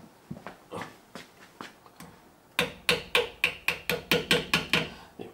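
A hammer taps a horseshoe-shaped clip into a rear disc brake bracket during a disc brake conversion: a few lighter taps, then a steady run of about ten sharp metallic strikes, close and loud, with no talk.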